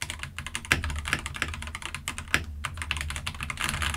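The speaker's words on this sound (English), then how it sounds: "Okay, let's do a little typing test." Steady typing on a DUSTSILVER D84 mechanical keyboard with red switches, a dense run of quick, even keystrokes with a few louder clacks, close and alone with no voices.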